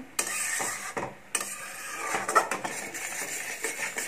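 A milk cake mixture with sugar stirred steadily in a pan, giving repeated close clinks and scrapes of a spoon against metal that run throughout with brief pauses.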